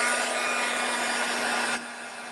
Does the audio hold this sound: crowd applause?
no